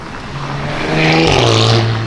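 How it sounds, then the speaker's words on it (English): A loud Pan America engine with a decatted, raw straight-pipe-sounding exhaust revs up close, its deep rumble swelling and rising in pitch before easing off. "Pan America with sound like straight pipes, at least decatted"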